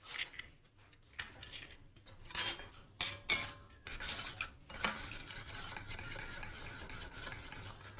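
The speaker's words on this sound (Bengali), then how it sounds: "দেখতে পাচ্ছেন আমি ডিমটাকে একটু ভালো করে ফেটিয়ে নিচ্ছি" An egg is beaten with a fork in a bowl for homemade spring rolls, quick clinking and scraping strokes coming in bursts, then a steady run of rapid whisking close up.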